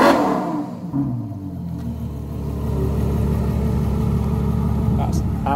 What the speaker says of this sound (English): Going to rev this so you can hear the exhaust.